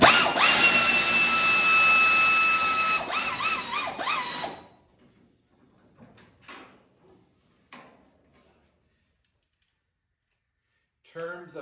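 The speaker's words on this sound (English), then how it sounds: "thankful to have an air ratchet, which just makes the job a little bit easier and a little bit quicker" An air ratchet whines loudly for a few seconds while tightening hood hinge bolts on a 1966 Mustang, then cuts off, leaving near silence with faint knocks and a brief voice.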